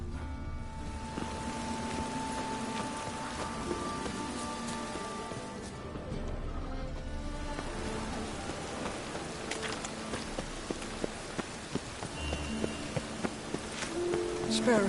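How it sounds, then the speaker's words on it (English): Rain falls steadily in The Witcher 3 video game, a faint continuous patter beneath game sounds, with occasional brief tones and soft knocks over the top. "Rain again."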